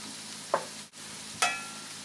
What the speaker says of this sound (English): And then just drop the egg in.